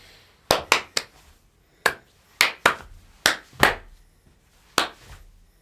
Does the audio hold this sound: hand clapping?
yes